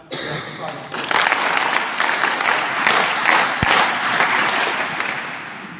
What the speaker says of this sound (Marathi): त्यांचा आपल्या कुस्ती केंद्रातर्फे प्रथमता टाळ्या वाजून